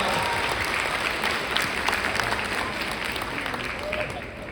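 An audience at an Indonesian gathering gives applause for Pak Doan, a sustained wash of clapping with crowd murmur and a voice talking faintly beneath it.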